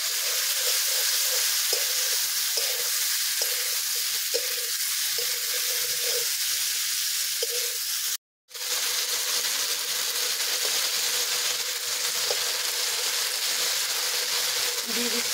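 Fried potato and cauliflower tipped into a pan of cooked-down spices, giving a loud, steady sizzle and hiss with faint stirring scrapes, broken by a brief silent gap.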